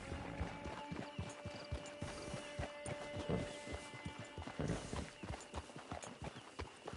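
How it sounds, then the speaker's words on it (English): Horse hooves clip-clopping at a steady walk in a PS4 video game, a rapid run of hard knocks that stays close and even, with a faint whinny in the background. "Get your horse."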